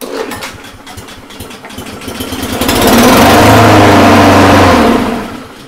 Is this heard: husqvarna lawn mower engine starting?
yes